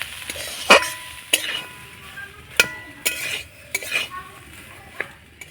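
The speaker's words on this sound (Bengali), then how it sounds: "আলুর সঙ্গে মশলাটা নাড়াচাড়া করে ভালো করে কষিয়ে নেব।" A utensil scrapes and clinks in a pan as mashed boiled potatoes are stirred with spices, giving irregular metallic knocks and scrapes several times over a few seconds, close and clear, with light sizzling underneath.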